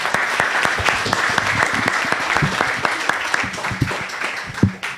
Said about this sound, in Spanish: damos un aplauso, por favor